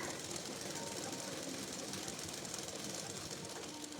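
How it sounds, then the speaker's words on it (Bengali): Sewing machine stitching piping onto the back neck of a blouse, a fast steady mechanical rattle running continuously and fairly close, with no pauses. "ওটা বসানোর জন্য উপর দিয়ে একটা এই সেলাইটা দিচ্ছি"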